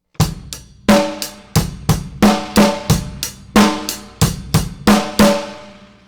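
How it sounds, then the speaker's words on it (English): A drum kit plays a steady rock pattern, deep bass drum thumps alternating with crisp snare hits, loud and close with no talking. "we're going to play our modified rock beat"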